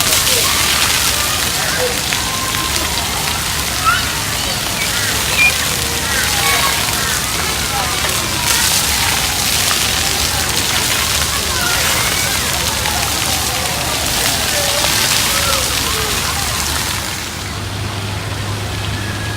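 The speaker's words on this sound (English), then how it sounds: "So this is a little water park down here." Splashing water at a small outdoor water park in Brisbane, a steady broadband wash of spray and sloshing that runs the whole time, with voices and faint background talk mixed in.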